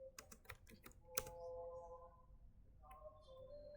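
A command typed on a computer keyboard during an operating-system input/output exercise: a quick run of close, crisp key clicks, then a sharper keystroke like Enter, followed by a quieter stretch with a few faint clicks near the end.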